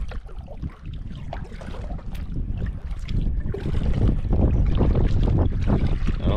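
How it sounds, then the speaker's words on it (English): Wind gusting over a lake in the Adirondacks, a steady close roar of rushing air and buffeting that builds louder toward the end, with no voices. "Oh, that wind is starting to come up."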